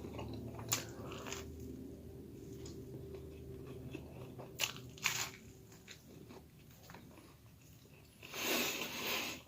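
Bites and crunches of toasted potato bread spread with creamy peanut butter, a few sharp crisp bites spaced apart with quiet chewing between, close and fairly faint, with a louder rustle near the end.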